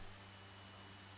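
Steady, even rain hiss in the open world of the video game Horizon Zero Dawn, very faint and constant throughout with no talk.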